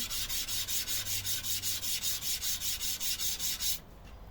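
Repeated back-and-forth hand sanding on a motorcycle starter part, a steady, even rhythm of about four strokes per second, close and clear, stopping just before the end.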